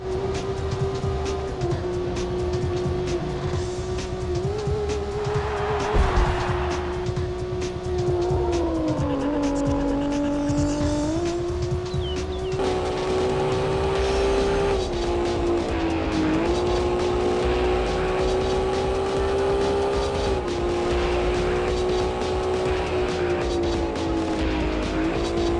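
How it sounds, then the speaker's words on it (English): Engine audio from a car in the PS1 Need for Speed racing game, a continuous whining motor that rises and falls with gear shifts, with tire squeals and skids over steady background music. "the engine audio might be the best engine audio of any racing"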